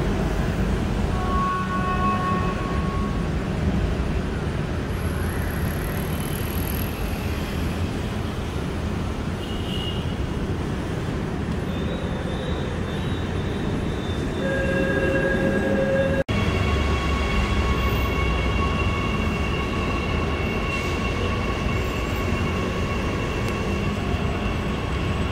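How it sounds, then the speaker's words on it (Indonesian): An LRT Jakarta light rail train departing toward Pegangsaan 2, a loud continuous rumble of rail wheels with rising motor whine and brief squealing tones, heard close and steady throughout. "Nah, ini LRT Jakarta diberangkatkan menuju Pegangsaan 2."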